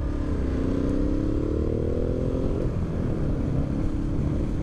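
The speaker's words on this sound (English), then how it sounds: "I'm just out and about on the bike having a little runabout today." Ducati Multistrada 1260 S motorcycle engine droning steadily while riding, a continuous loud hum with a rising then falling pitch sweep, wind rush throughout and no talking.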